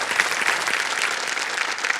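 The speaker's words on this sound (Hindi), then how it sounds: "तालियां बजते रहे इनके लिए।" A studio audience on a quiz show gives sustained, dense applause, loud and even throughout the short stretch, with no speech over it.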